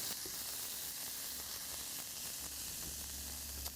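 Vegetables and tomatoes sizzle steadily in a pan while being stirred, a continuous faint frying hiss with no talking.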